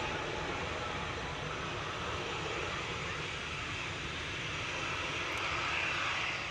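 Airbus A321neo jet at Manchester Airport, a steady broad roar of engine noise heard from a distance, sustained throughout without breaks.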